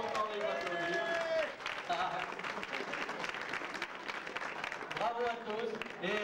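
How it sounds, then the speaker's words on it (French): Applause for the kings and queens at a community friendship festival, a dense crowd clapping steadily throughout with voices and chatter mixed in. "Sérieux efforts, on peut encore les applaudir."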